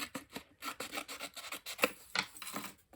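A piece of card is trimmed down in quick, close, raspy rubbing strokes that come in an uneven rhythm with short gaps, heard alone without talk.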